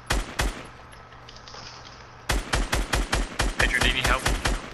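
Rapid bursts of gunfire in the Fortnite battle royale video game, a short pair of loud shots followed by a steady string of repeated shots, with faint voices in the background.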